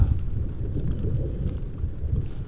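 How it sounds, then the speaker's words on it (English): Thunder rolls through the mountains during an afternoon storm on a sheep hunt, a low, continuous rumble that carries steadily from a distance without distinct cracks. "Thunder and lightning every afternoon."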